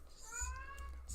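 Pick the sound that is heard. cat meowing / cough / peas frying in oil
cat meowing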